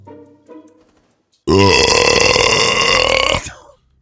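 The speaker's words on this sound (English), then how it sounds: "Rate my fucking burp" A loud, long burp from a young man gaming, erupting suddenly after faint background noise and sustained for about two seconds before cutting off.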